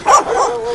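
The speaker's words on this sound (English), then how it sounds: "Dogs everywhere." Two or three quick dog barks in a street, loud and close, with a sharp first yelp followed by a softer bark.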